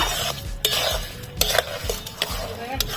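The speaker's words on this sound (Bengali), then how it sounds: "দুশো চিনি নিয়েছি দিয়ে দিচ্ছি ভালো করে মিশিয়ে নেব" A spoon stirs sugar and cane jaggery into apple chutney in a pot, a steady, close, scraping swirl with clinks against the metal sides, loud and continuous with no talking.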